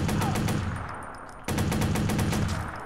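A heavy-calibre weapon fires in the video game Watch Dogs, loud rapid automatic bursts with a brief lull and then a renewed burst, no voices heard.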